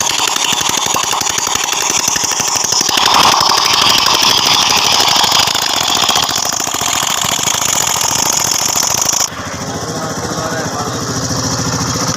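TVS Sport motorcycle engine running steadily after a kick start, a loud, continuous mechanical clatter and buzz that shifts slightly in pitch partway through, close by and without talk.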